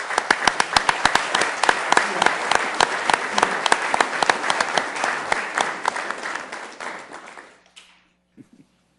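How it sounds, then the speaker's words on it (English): A small group at a Sioux Falls council meeting claps in a brisk, uneven patter for several seconds, then the applause fades out to near silence. "giving these folks a round of applause"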